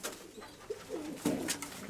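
A breeding pair of pigeons, a white hen and a steel-coloured cock, give soft, quiet coos in short bursts at close range in a dovecote, with no other sound around them.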